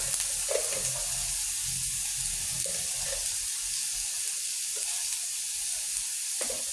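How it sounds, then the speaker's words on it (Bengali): Chili, onion and garlic fry in a pan, making a steady, moderately loud hiss of sizzling oil broken by a few brief clatters of stirring. "এখন আমি মরিচ, পেঁয়াজ এবং রসুন ভাজি করে নেব"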